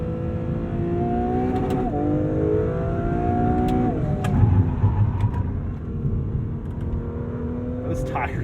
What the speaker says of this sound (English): Letting it run out all the way to red line. And then experiencing quick shifts.